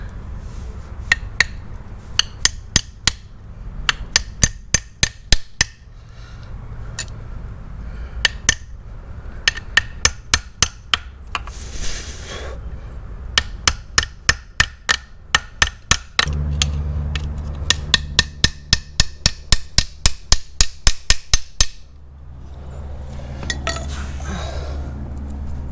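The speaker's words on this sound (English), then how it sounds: "Let's see if the seal puller tool can help us in here." A seal puller tool is hammered on a Mercedes CLK500 engine, giving sharp metallic strikes in quick bursts of several blows with short pauses between them, loud and close.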